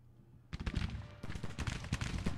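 Artillery and musket fire in the Civil War strategy game Grand Tactician, a sudden onset of dense overlapping booms and crackling volleys that roll on continuously after a brief lull, loud and close.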